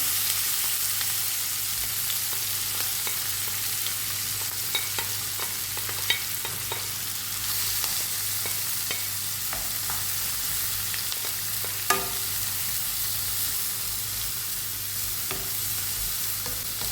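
Onions sizzle steadily in the frying pan left from cooking chicken, with a constant close hiss and occasional stirring scrapes and clicks over it.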